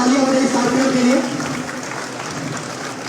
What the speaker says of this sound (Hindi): एक बार जोरदार तालियां हो रही साथियों के लिए।